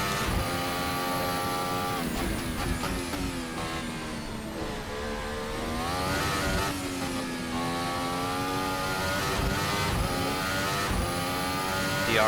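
Formula Hybrid 2018 Formula 1 car in a racing sim, its hybrid engine screaming at high revs with rising and falling pitch through gear changes, loud and continuous throughout.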